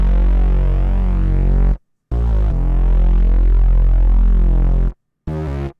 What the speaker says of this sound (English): Then I'm adding in the super distorted bass, Utopia, probably my favorite bass sound in the entire Bank